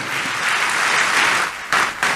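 A church congregation bursts into loud, dense applause that carries on close and full, then drops briefly before surging again near the end.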